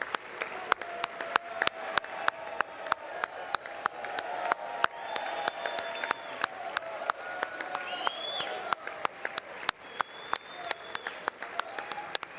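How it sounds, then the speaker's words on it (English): Loud, prolonged applause from the chamber during a presidential address to Congress, dense clapping with scattered cheers and whoops, heard at a distance as if through a broadcast feed. "They clapping too loud."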